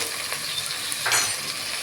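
Crushed mottikaya frying in oil for Kadapa-style mottikaya karam gives a close, steady sizzle with a brief louder burst of stirring partway through.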